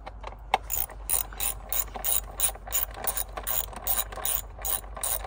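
Hand ratchet clicking rapidly while snugging spark plugs in a Honda Accord engine, close and crisp, in quick repeated bursts of pawl clicks.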